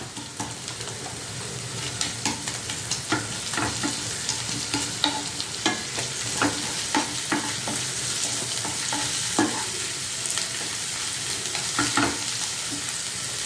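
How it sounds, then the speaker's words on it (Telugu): Freshly pounded ginger garlic paste frying in oil in a pan, a continuous close sizzle punctuated by frequent rhythmic spatula scrapes and taps as it is stirred, no talking. "వేస్తే కాస్త పచ్చి వాసన పోయే వరకు వేయించాలన్నమాట."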